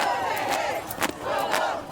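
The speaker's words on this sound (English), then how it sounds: "The crowd taking over the park and street, chanting, "This is what democracy looks like."" A protest crowd in a downtown San Antonio park and street chants in rhythm, a mass of voices rising and falling in repeated phrases with sharp shouts between them, heard from within the crowd at a moderate distance.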